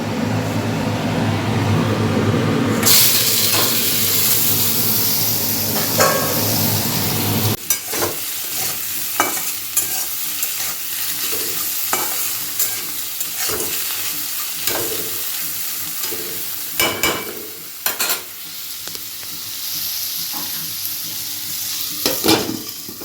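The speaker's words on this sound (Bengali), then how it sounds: "তো চলো, এখন তেল গরম হয়ে গেছে, আলুগুলো দিয়ে দিই।" Potatoes drop into hot oil and fry with a loud, dense sizzle, followed by steady frying crackle broken by repeated stirring scrapes and clatters, close and without speech.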